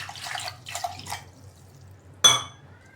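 Water poured into blended drumstick soup mixture as it is strained through a sieve into a pot, heard as a soft splashing and dripping at first, then one sharp, bright splash near the end, with no talking.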